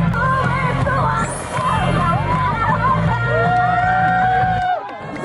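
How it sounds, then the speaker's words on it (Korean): Loud crowd at a school sports day, a Korean arts high school's 2019 autumn event, cheering, whooping and yelling continuously with a dense babble of voices throughout, dropping off near the end. "멋진 배틀 맞출 때 큰 박수로 환호해 주세요."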